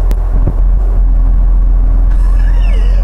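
An old IVECO Magirus all-wheel-drive THW truck pulls up nearby, its heavy diesel engine rumbling loudly and steadily, with a short hiss and squeal near the end.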